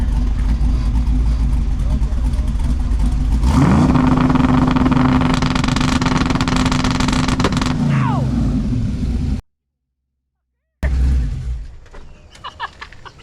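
A Firebird's exhaust revs hard on two-step launch control and holds at a steady high pitch, then drops away, with voices talking over the loud engine and a brief silence near the end.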